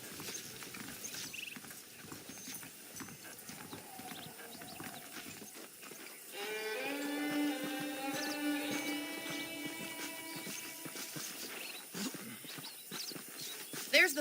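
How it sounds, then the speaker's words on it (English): Horses in the video game Red Dead Redemption trot with a steady clip-clop of hooves, joined midway by a drawn-out tonal call, while people talk throughout. "The horses are saddled up over here."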